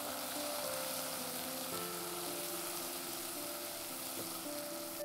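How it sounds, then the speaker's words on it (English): Rice sautés with garlic and onion in a pan for a pumpkin and thyme risotto, making a soft, continuous sizzle that sits faintly under steady background music. "So our rice is nicely sauteed with garlic and onion."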